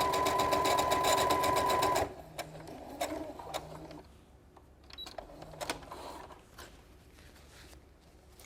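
A sewing machine does twin-needle quilting, stitching in a loud, steady mechanical run for about two seconds before stopping, followed by quieter handling clicks and small bumps.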